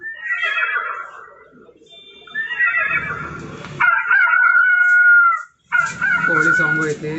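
A megaphone's built-in animal sounds play loudly and close with a tinny, electronic tone, a string of calls resembling a rooster crow and a horse whinny in quick succession, alone without talk.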